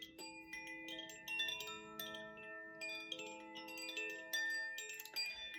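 Gaia chimes ring out in overlapping, sustained metallic tones, struck repeatedly so bright notes keep layering and shimmering without pause.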